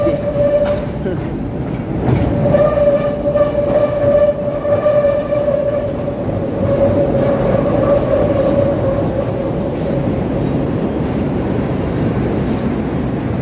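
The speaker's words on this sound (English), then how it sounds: "It always makes a squealing noise because it's such a tight turn right there" A Chicago Loop elevated train squeals steadily with a high, sustained screech as it rounds a tight turn, over a loud, continuous rumble of the rail cars close by.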